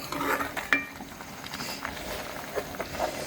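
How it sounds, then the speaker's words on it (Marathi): Eggplant and peanut-powder vegetable curry boiling vigorously in a pot, soft bubbling with occasional spoon clinks and stirring knocks, fairly quiet and close. "याला अशी खळखळ खळखळ खळखळ उकळी फुटू द्यायची आता मस्त उकळी फुटते बघा"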